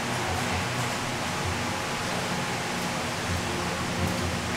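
Steady rain falls in the Philippines, a dense, even hiss that stays at one level for the whole stretch, with no voices.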